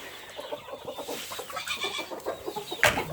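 Chickens and cockerels clucking in a farm pen, a steady scatter of close clucks and chirps with a sharper louder call near the end.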